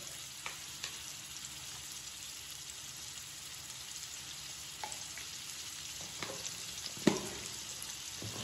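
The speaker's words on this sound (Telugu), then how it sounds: "ఈ ఆనియన్స్ కూడా ఒక్క 1 మినిట్ నూనెలో మగ్గాలి" Onions frying in oil in a pan, seasoned with salt and turmeric for a curry, give a steady, even sizzle with a few faint clicks of stirring and one sharper clink near the end.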